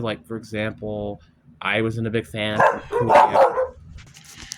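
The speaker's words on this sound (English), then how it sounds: "Sorry about the dog noise." A dog barks several times in quick sharp bursts near the start, then again under a voice as he keeps talking.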